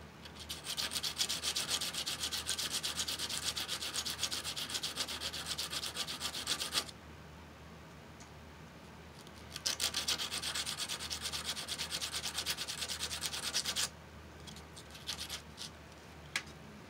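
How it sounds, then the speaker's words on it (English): A fuse block is sanded to prepare it for soldering, heard as two long, close stretches of steady scratchy rubbing separated by a short pause, plus a brief final pass. "I'll sand it here so I get a good solder connection"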